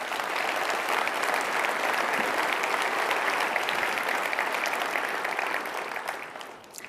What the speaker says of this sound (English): Let's give these companies a huge round of applause.